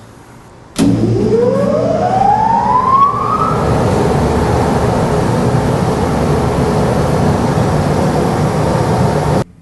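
A pipe organ's blower kicks in with a loud mechanical whir that rises in pitch as it spins up, then settles into a steady roaring drone before cutting off.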